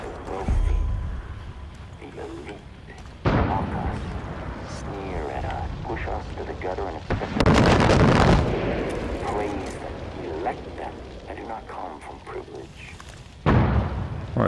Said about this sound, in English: there's somebody shooting mortars from over there